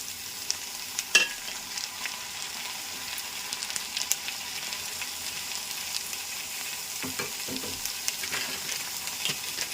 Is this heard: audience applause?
no